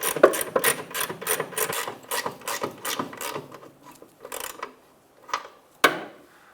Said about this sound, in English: So again, the 17 millimeter wrench. Just lock that down.